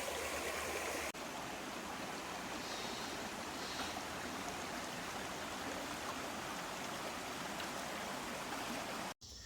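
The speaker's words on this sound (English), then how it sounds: "We hiked to Clover Falls on the Oregon side, which was a magnificent waterfall filling a chilly, deep blue pool." A river and waterfall in the Columbia Gorge rush in a steady, continuous roar, close and constant throughout with no voices.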